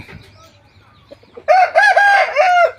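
A fighting cock crows loudly and close by, one long strained call with harmonic warbling that follows a quiet stretch of faint background sounds and soft clucks.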